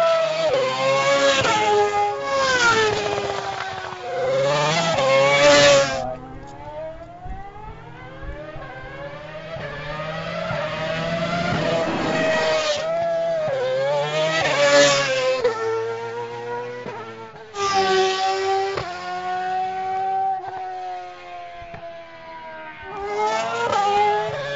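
A Williams Formula One car lapping a test track at Kemble, its high-pitched engine screaming through repeated gear changes as it rises and falls, loud and continuous with no talk.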